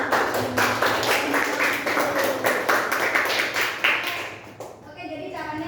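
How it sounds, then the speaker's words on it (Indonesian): Audience clapping in a classroom or training session, a dense broadband patter of many hands for about five seconds that thins out near the end as a voice begins. "Tepuk tangan dulu dong."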